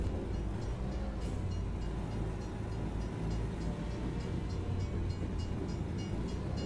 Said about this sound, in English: Got an intermodal train here.